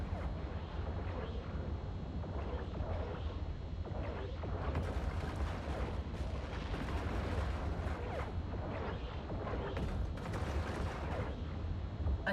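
Ships trading weapons fire in Eve Online space combat, a dense rumbling barrage of booms and blasts overlapping continuously for several seconds, heavy and loud without voices.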